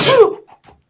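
A single short, sharp sneeze, loud and close, bursts out and then fades into small breathy traces.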